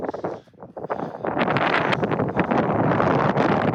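Wind gusts roar steadily across a close microphone at a Cornish castle, a rough, buffeting rush that rises after a brief lull and stays loud.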